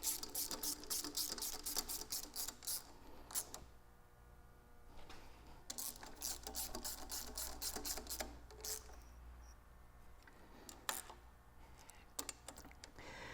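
A ratchet clicks in quick bursts, close and fairly quiet, tightening the fuel rail bolts on a Toyota 1FZ-FE engine in an 80 Series truck, with short pauses between runs and no talking.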